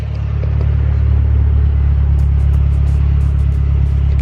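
A Mazda Speed car engine idles steadily and close after its old 140,000-mile spark plugs were replaced, a loud, smooth, even rumble with no hiccups.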